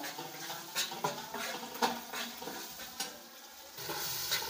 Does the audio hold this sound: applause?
no